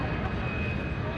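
A vintage Corsair and an F/A-18F Super Hornet approach head-on at an air show, a broad steady engine roar filling the air with a faint high whine, while a voice speaks over it.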